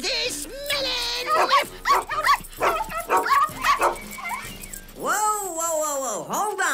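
A cartoon dog barks, yips and whimpers in a rapid, loud, expressive run of animated vocal sounds, ending with drawn-out whining howls.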